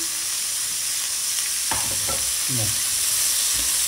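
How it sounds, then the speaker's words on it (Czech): Rabbit meat seasoned with spices sizzles steadily in a pan, broken by several short scraping stirs from the second half onward; close and fairly loud, with no voices. "Takhle se mi to tady míchá, nebo já to míchám, tady se mi to opěká"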